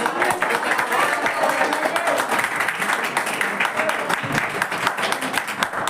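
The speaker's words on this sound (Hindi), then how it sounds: "यहाँ पहले ताली बजाते हैं।" A crowd of students and teachers claps steadily and loudly for several seconds at a Republic Day celebration in an academy, dense continuous applause with no pauses.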